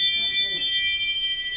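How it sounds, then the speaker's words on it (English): A smart doorbell plays a short twinkling chime of bright, high, bell-like notes in quick succession, clear against a quiet room. "I've got this new smart doorbell that will now twinkle when someone is at the door."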